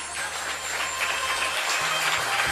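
Audience applause during a Hindu religious discourse on Saphala Ekadashi, a soft, fairly faint patter of clapping from a gathered crowd, steady and slightly swelling toward the end, with a low hum underneath.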